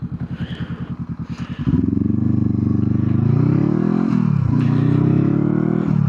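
A Honda CB500F motorcycle fitted with a Black Widow exhaust pulls away loud and close, its lumpy idle pulses giving way to a steady rising engine drone, with throttle dips and surges as it rides off.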